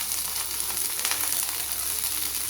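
Onion, garlic and black cumin seeds frying in hot oil, a steady close crackling sizzle with faint stirring scrapes, no voices.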